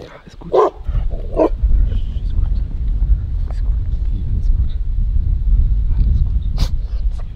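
A dog barks a few times early on at a lakeside carp-fishing camp in the morning, short sharp yaps over a constant rush of wind against the microphone.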